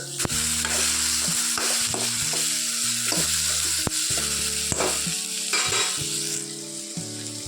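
Ridge gourd sautéing in a pan for kuzhambu, a loud continuous close sizzle with repeated rhythmic spatula scrapes and clanks, sung music playing underneath.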